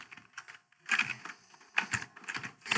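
Search term typed on a computer keyboard: quick bursts of close, soft key clicks in uneven clusters with short pauses between them.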